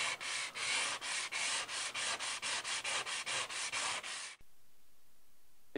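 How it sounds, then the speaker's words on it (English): A rusted saw blade is sanded by hand with 220 grit sandpaper, about sixteen quick rhythmic rasping strokes, close and fairly loud, then an abrupt stop into near silence. "the sandpaper you'll be using will depend on how badly your saw is rusted"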